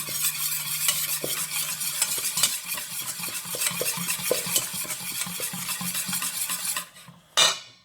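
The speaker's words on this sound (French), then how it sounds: "On va mélanger le tout." Garlic purée is stirred into a fish soup base, a spoon scraping and clinking steadily against the pot for several seconds over a soft simmering sizzle, ending with a brief louder knock.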